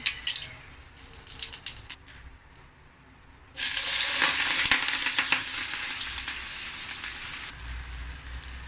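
Quiet stirring and clinks, then a sudden loud sizzle erupts as tempering spices hit hot oil, crackling steadily and close up.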